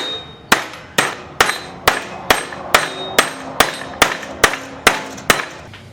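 Hammer blows on sheet metal for a Suzuki GS550 cafe racer, about a dozen sharp, evenly spaced metallic strikes with ringing decay, close and loud, no talking.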